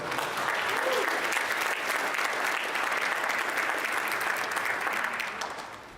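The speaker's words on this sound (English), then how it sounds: "You can give yourself a hand of applause." Graduates and guests at a high school graduation ceremony clap for themselves, a broad continuous wash of applause from a large crowd, steady and fairly distant, fading slightly at the end.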